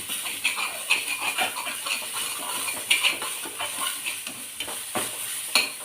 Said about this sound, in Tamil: நல்லெண்ணெய் ஃப்ரை பண்ணி வச்சுங்க. சிம்மில் வச்சு ஃப்ரை பண்ணுங்கள்.